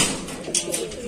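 Allahabadi desi pigeons kept in a loft in Daraganj, Prayagraj, give soft, low cooing against a steady hiss of background noise, faint and somewhat masked.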